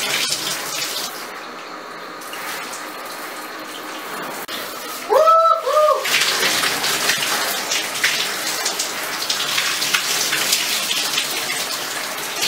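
A running shower with steady spraying and hissing water that carries through the whole stretch, and a brief voice-like sound in the middle.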